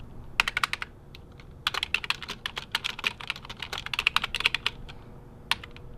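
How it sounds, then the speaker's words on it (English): Rapid bursts of typing on a computer keyboard, crisp clicking keystrokes in irregular clusters with short pauses, close and clear in a quiet room. "can you please stop typing and turn the light off?"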